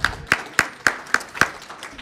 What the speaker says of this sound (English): Can we have a round of applause for Henry James?